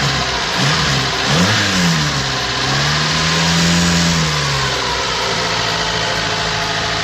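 A Ford Festiva engine runs with beer in the cooling system in place of coolant; the motor revs up, dips and swells again, then settles toward a rough idle, loud and close, with no talking.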